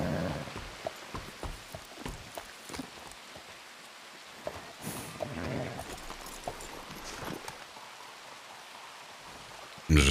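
Rain patters steadily in a multiplayer survival video game, a soft continuous hiss with scattered drops, while people talk over it.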